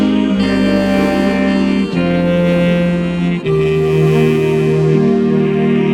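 A podcast intro jingle with layered sustained synth chords and a deep bass line changing every couple of seconds, loud, full and continuous, with no voices.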